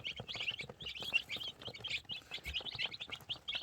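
Young light Brahma chicken chicks, about five or six days old, chirping in a busy overlapping chorus of high peeps, steady and fairly close, with faint pecking and movement beneath and no talk.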